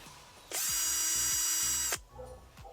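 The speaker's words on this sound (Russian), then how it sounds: "И палки тоже надо посверлить." A power drill bores into wooden sticks in one loud, steady high-pitched whine lasting about a second and a half, starting and stopping abruptly, with quiet handling noises before and after.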